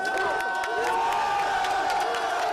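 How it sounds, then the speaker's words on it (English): Pro-Israeli protesters cheer and whoop at a street protest as authorities arrive, a dense continuous crowd roar with whistles and shouts, fairly loud and sustained. "pro-Israeli protesters cheer as authorities walk in"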